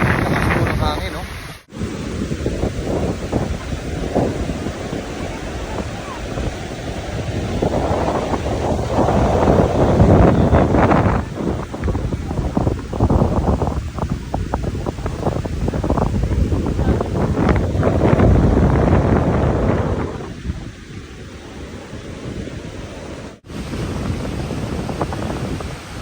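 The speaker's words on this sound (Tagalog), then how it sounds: "Lakas po ng hangin, no?" Strong wind buffets the microphone on Boracay beach, a loud, continuous roar with gusts swelling and easing, surf faintly beneath and a voice speaking briefly.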